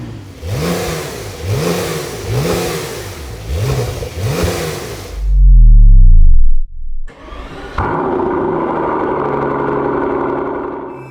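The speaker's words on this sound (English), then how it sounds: "The Brabus Rocket 900R on base of the 992 911 Turbo S" Brabus Rocket 900R built on a 992 Porsche 911 Turbo S, engine revving loudly in repeated rising and falling surges, then a sharp blip and drop, followed by a steady deep roar close by.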